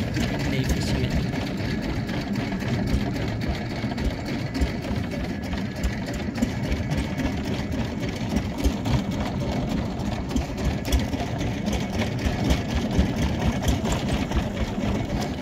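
Small tourist boat engine on Inle Lake in Myanmar, a steady close rattling drone that runs without a break under open-air wind noise.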